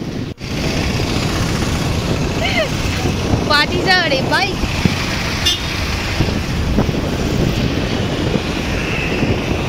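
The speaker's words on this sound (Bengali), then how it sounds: "তো চলো আমরা বাইকেই যাচ্ছি" Riding a motorbike on a road after rain: constant rough wind buffeting the microphone over a low engine drone, with a few quick chirping horn toots in the middle.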